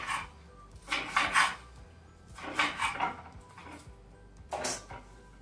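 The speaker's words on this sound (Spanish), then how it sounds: "Le vamos a picar su cilantro." Cilantro is chopped in a kitchen for caldo de calabacitas, a zucchini soup from Oaxaca; three short bursts of quick, clattering knife cuts close by, separated by brief pauses, with no talking.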